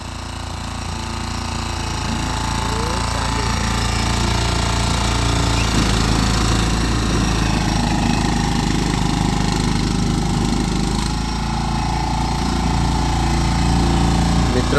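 A fodder grass cutting machine runs in a farm field, a steady, loud mechanical engine drone with rattling, chattering cutting noise that holds continuously throughout.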